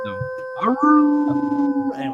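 A dog across the street lets out a long, sustained howl that holds steady for over a second, with a person talking briefly over it.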